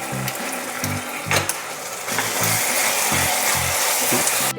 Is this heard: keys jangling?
no